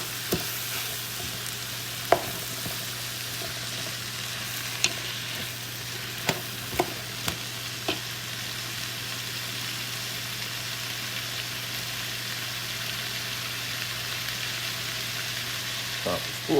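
Pork stir-fries in a hot pan, a continuous dense sizzle with occasional sharp clicks of a utensil against the metal, steady and close for the whole stretch with no voices.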